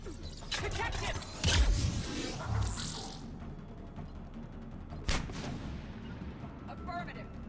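Gunfire in the Mass Effect 3 video game: several loud, sharp blasts and booming shots with crackling bursts, spaced irregularly over a rumbling battle background.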